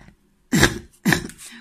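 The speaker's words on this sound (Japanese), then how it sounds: "ちょっと咳が出る" Two harsh coughs in quick succession, close and fairly loud, with a faint breathy sound trailing after.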